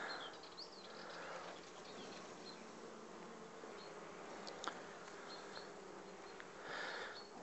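Honeybee colony hum during a spring hive inspection, a steady buzzing drone that swells briefly near the start and again at the end, with a few sharper individual bees passing close to the microphone.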